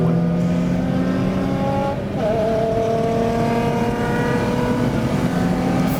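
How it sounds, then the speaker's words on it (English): A black stage 3 Ford Fiesta ST races around a track at Snetterton, its engine a loud, continuous drone that holds steady and then climbs in pitch as it revs, close and without talk. "Gareth from Stealthwerx appearing in his black stage 3 Fiesta ST"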